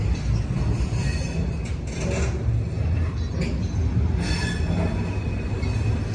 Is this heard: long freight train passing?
yes